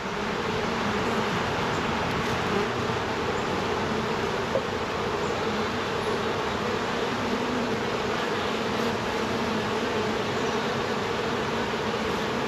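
Steady, dense buzzing of honey bees on a hive's honey supers fills the whole stretch, a continuous close hum with no talking.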